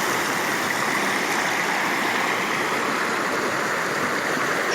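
A fast-flowing, high-volume stream runs over rocky ground, a steady, dense rush of water that fills the whole clip at close range with no break.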